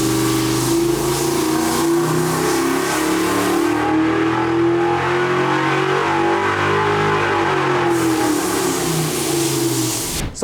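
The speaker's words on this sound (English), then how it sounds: "Let's go ahead and make the first run." A car engine roars steadily on a dynamometer during a power run in a piston ring comparison test. Its droning pitch shifts gradually as the load sweeps, loud and close, with no talking.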